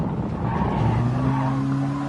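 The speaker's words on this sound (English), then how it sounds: "they really like the tire squealing" Sustained tire squeal from a race car in GT Sport, a steady high-pitched screech layered over a loud engine drone and road rumble, lasting through a corner, with no talk.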